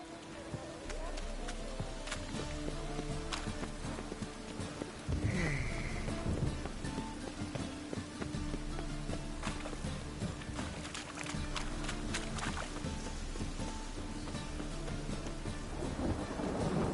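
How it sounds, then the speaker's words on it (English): Rain and a thunderstorm rumble through a Witcher game scene, a steady wash of rainfall with low thunder rolls and scattered cracks, with no one speaking. "Storm, damn it."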